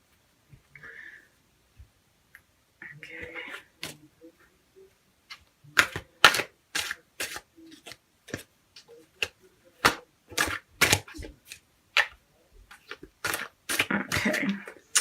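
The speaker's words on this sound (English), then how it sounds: "So let's pull your first card." Tarot cards shuffled and drawn at a reading table, a series of crisp, quiet snaps and flicks in uneven rhythm, close to the microphone, with soft rustling between.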